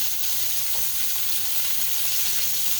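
Pork chops sear in hot oil in a pan, giving a steady, close sizzling hiss that fills the whole stretch without any talk.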